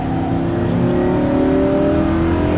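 A Lamborghini Huracan LP610-4 on a track, its engine droning loud and steady as it accelerates, the pitch rising gradually under sustained throttle, heard from inside or close by with no talk.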